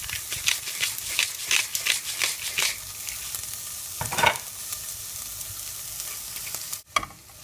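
Chicken pieces fry in olive oil or margarine with a bright, crackling sizzle and repeated stirring scrapes, a sharp clatter near the end, and no talking.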